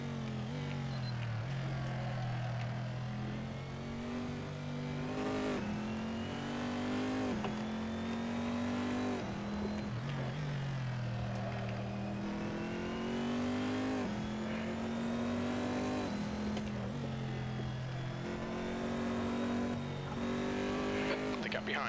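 A Corvette C7.R race car engine in a racing video game at Laguna Seca roars steadily, revving up and down through gear changes with brief tire squeal, loud and continuous throughout while someone talks over it.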